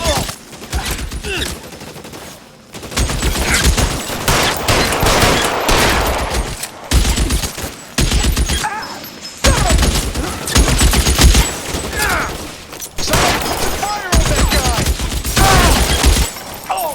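Gunfire in the video game L.A. Noire, loud bursts of rapid shots in repeated volleys separated by brief pauses, with a voice speaking faintly between them.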